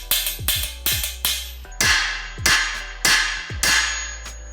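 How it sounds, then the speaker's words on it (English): A hammer strikes a Motion Pro driver tool, seating a steering stem bearing race into a dirt bike frame: seven loud, ringing metallic blows at a steady, unhurried pace, each with a brief resonant ring, close up. "use the hammer to drive that bearing into the frame"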